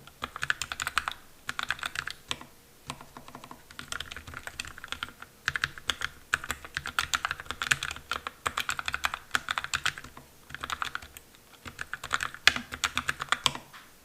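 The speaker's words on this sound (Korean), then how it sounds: "타건음을 잠깐만 들려드리도록 할게요" Keys on a Keychron K3 Retro mechanical keyboard clack in quick bursts of typing, crisp and close, with short pauses between runs of keystrokes.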